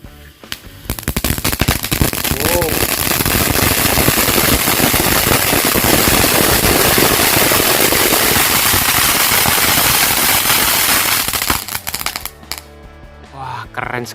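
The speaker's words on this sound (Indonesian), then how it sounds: "kita nyalain mercon air mancur jumbo" A jumbo fountain firecracker burns with a loud, continuous hissing roar and crackle that fills about eleven seconds, then cuts off abruptly, leaving quieter sounds behind.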